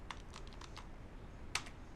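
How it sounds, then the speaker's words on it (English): Computer keyboard keys tapped several times, light clicks followed by one sharper, louder keystroke near the end, close and quiet with no talking. "you press enter on your keyboard"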